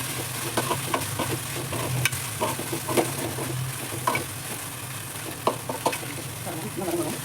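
Onions frying in a pan for chicken biryani, cooked until brown, with a steady close sizzle and occasional stirring scrapes and clicks throughout.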